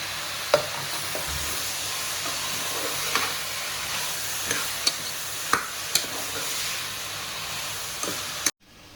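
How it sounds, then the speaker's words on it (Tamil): Beans, carrot, potato and brinjal sautéing together in a pan for Kumbakonam kadappa, with a continuous close sizzle and regular sharp spatula clinks and scrapes as the vegetables are stirred. "இப்போ இது எல்லாத்தையும் ஒன்றா போட்டு மிக்ஸ் பண்ணி வதக்கிறேன்"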